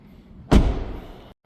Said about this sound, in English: So let's shut this door and we'll go to the driver's side next.